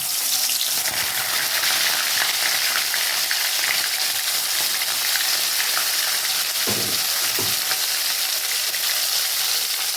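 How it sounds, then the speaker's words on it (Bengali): Koi fish frying in hot mustard oil make a loud, dense, continuous sizzle heard close up, with two brief low thumps near the end. "এবার মাছগুলো আমি ভেজে নেবো"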